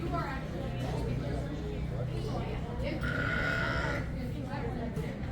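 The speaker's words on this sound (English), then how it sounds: "I'm sure everybody can hear the goats over there." Goats bleat in the background of a busy outdoor scene, partly buried under steady crowd chatter and noise, with one clearer, louder call partway through.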